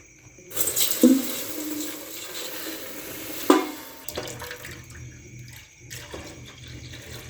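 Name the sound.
milk being poured into a pot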